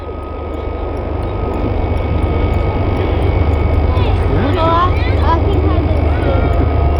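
Aerobatic display team jets fly overhead at the Leuchars Airshow, a loud, continuous roaring engine wash with a sweeping whine, while an announcer's voice commentates over the noise.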